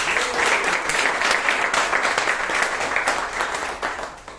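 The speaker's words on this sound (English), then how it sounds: "Let's give our Toastmaster of the day, Rajdeep, a huge round of applause" A Toastmasters club meeting audience in Bangalore applauds the Toastmaster of the day with steady, dense clapping that fills the room for several seconds and fades slightly at the end.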